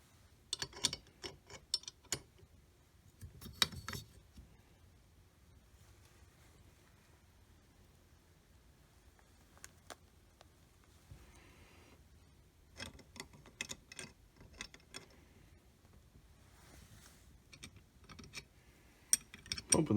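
A 9mm 1911 pistol frame is clamped in a bench vise with scattered light metallic clicks and taps that come in faint, irregular bursts amid quiet pauses.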